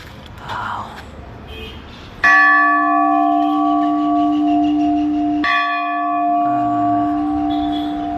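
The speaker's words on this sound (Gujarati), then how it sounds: "આ ઘંટ વગાડી દઈએ આપણે" A metal temple bell at a pyramid-shaped meditation temple is struck twice, a few seconds apart. Each strike gives a loud, bright clang followed by a long, shimmering ring that carries on after a voice speaks briefly at the start.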